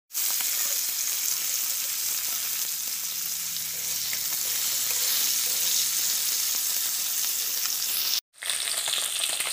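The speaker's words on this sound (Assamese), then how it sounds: "মাছখিনি ফ্ৰাই হৈ গ'ল" Shol fish sizzling steadily in hot oil in a pan, a loud, continuous frying hiss that runs unbroken for several seconds before a brief cut.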